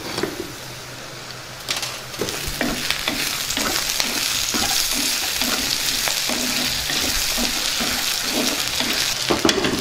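Onion pieces and pre-fried dried fish fry loudly in hot seasoning oil for an eggplant curry, cooked in a traditional style. A steady close sizzle runs throughout, with quick rhythmic scraping and stirring ticks and no voices.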